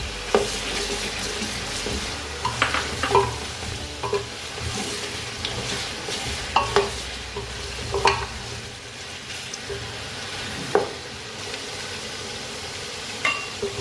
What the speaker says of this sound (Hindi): चिकन फ्राई हो चुका है तो अब हम इसमें शामिल करेंगे कटे हुए टमाटर